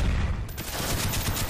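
Rapid, dense gunfire crackles in a Call of Duty: Black Ops multiplayer Domination match, a loud continuous burst of overlapping shots.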